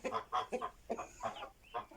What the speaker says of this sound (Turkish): Şu Hasan abinin verdiği tavuk şu herhalde.